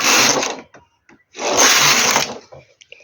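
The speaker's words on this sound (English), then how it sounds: "Then I'm going to knit 2 rows right now." A lace-pattern knitting machine's carriage is pushed across for two rows, two loud, close whooshing passes separated by brief clicks and a pause.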